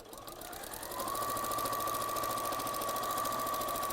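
A domestic sewing machine stitches around a garment, its motor speeding up into a steady whirring hum with a rapid needle chatter, close and fairly quiet with no talk.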